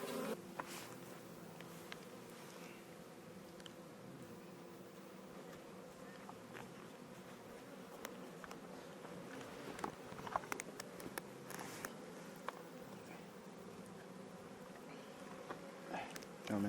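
Honey bees buzzing around a hive, a dense, steady drone of many insects nearby with small clicks and taps, quiet overall.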